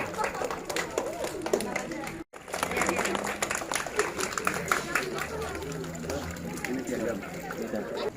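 Applause at a school literacy award ceremony honouring SDN 2 Loktabat Selatan, a dense, steady patter of clapping that continues throughout, mixed with crowd chatter and talking.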